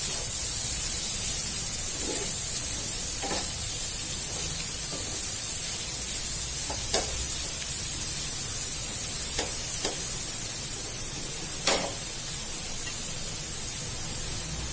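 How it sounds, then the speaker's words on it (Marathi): Onions and tomatoes cook in a pan over a full gas flame, giving a steady, even sizzling hiss throughout, broken only by a few faint scattered clicks, with no talking. "कांदे आणि टमाटे चांगले शिजले पाहिजे म्हणून गॅस फुल करायचा"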